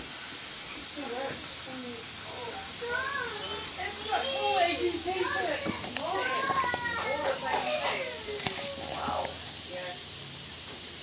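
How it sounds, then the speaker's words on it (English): A continuous hiss of steam from a stovetop coffee maker, bubbling a little at the top, runs throughout as voices chatter over it. "It's like a model of an electric steam train."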